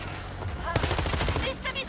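Rapid gunfire in the zombie shooter World War Z Aftermath, Rome level, a burst of quick automatic shots starting partway through, mixed with game sounds and a voice talking.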